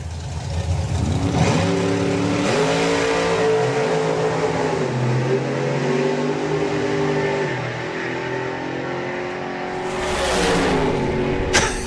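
A Fordson Outlaw Anglia hot rod races down the drag strip at an NSRA meet, its engine roaring loud and revving through rising gear pulls, then fading as the car gets farther away, with a brief burst of noise near the end.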